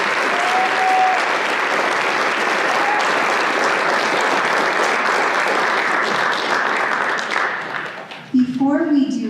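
An audience at a National Honor Society induction ceremony gives a long, full round of applause, steady and dense, fading out near the end as a speaker's voice begins.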